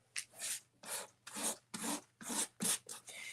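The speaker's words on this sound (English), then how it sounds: "So I'm going to give it a little rub here as well." Paint rubbed by hand across a wooden door hanger to give it a rustic finish, heard as about eight rhythmic scratchy rubbing strokes, close and fairly quiet, with no talking.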